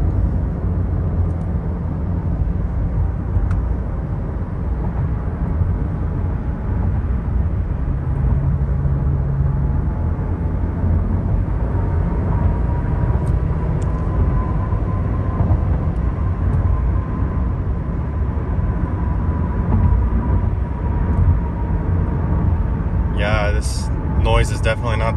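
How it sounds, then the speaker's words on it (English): Steady low road rumble and tire drone inside a Subaru Crosstrek driving after a wheel bearing replacement, a continuous even cabin hum with no grinding evident, and a brief clicking burst near the end. "let's go ahead and drive it and see how it does"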